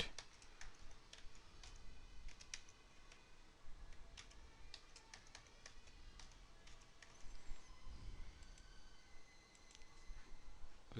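A password being typed on a computer keyboard, with faint, close key clicks in irregular bursts and short gaps across the whole stretch, over a low background hum, with no voices.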